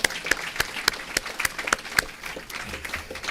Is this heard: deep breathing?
no